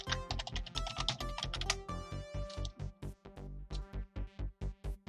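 Rapid typing on a computer keyboard while entering a password, crisp key clicks in quick irregular bursts, then slower, more spaced keystrokes near the end, with no voices.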